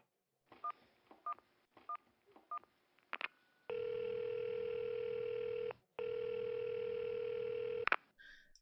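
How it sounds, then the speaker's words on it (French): A phone is dialed with a short series of quick beeps, then a steady ringback tone sounds in two long pulses separated by a brief gap, clear and alone with no talking. "Ça sonne"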